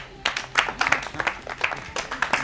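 Scattered applause from a small group in a Jean-Claude Van Damme film, with uneven claps rising and thinning over a few seconds.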